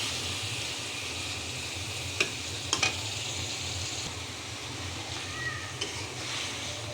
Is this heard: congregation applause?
no